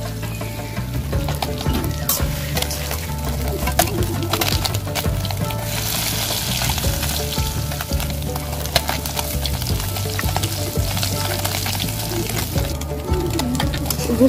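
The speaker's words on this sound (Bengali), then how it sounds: "গোস্তটাকে কড়াইয়ের মধ্যে এইভাবে ঢেলে মানে আঁচে অনেকক্ষণ আঁচে এটা ভাজতে থাকি" Meat sizzling and frying in a wok over a village cooking flame, a continuous crackling hiss with occasional stirring scrapes and clicks, close and steady throughout.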